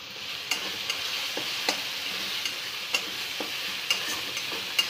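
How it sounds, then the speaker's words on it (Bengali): Jackfruit frying in a pan with turmeric and butter, a steady close sizzle running throughout with scattered light ticks and scrapes of a spatula every second or so, no voices. "এটা ভালো করে ভেজে নিতে হবে"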